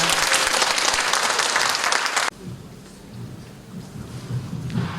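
Dense, loud applause from an audience at an outdoor civic festival, filling the first two seconds before cutting off abruptly, followed by quieter room noise and faint scattered sounds.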